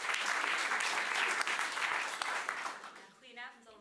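Audience applause for an author at an evening discussion event, sustained clapping that fades out toward the end as a voice begins speaking.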